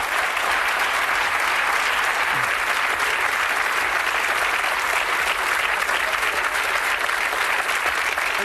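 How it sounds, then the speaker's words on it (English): Audience applause at a televised darts game show, a dense steady clapping from a studio crowd that fills the whole stretch evenly, with faint voices underneath. "Nice round of applause, Bob."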